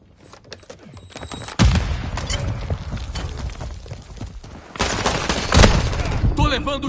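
Bursts of rapid gunfire crackle and boom in two heavy volleys in Call of Duty: Modern Warfare 2 multiplayer, with scattered shots and game sound effects between them.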